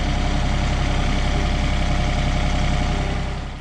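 A tractor engine idles steadily close by on a farm, a continuous low rumbling drone that holds constant throughout and fades slightly at the very end, with no talking.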